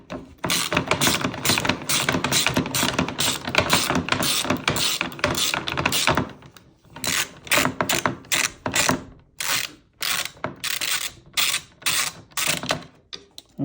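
A hand ratchet on an extension clicks rapidly in bursts while backing out spoiler bolts on a 2010-16 Porsche Panamera, loud and close, with a short pause midway before the ratcheting resumes.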